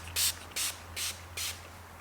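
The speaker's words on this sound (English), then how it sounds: "Now we're gonna spray some application spray on here." Application spray hisses onto a dirt bike decal in a garage in four short, even bursts over a faint low hum.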